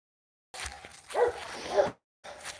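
Dogs on a backyard chicken farm barking and yipping in two or three short near bursts, with brief silences between them.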